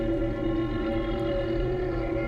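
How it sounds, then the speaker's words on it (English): A steady low rumbling drone from the Divine Beast in Zelda: Breath of the Wild, heard in the desert: a continuous, loud, dense hum with layered tones and no breaks, alone without talk. "we got close enough to the beast, so now we can feel the rumbling it's making"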